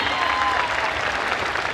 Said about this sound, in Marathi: त्यांच्यासाठी जोरदार टाळ्या वाजवा ज्यांनी ही जागा दिली